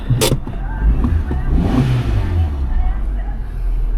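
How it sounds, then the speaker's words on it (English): A Fiat car engine idles close by with a low steady rumble, under brief bursts of talk and a few short clicks. "Engine seems alright."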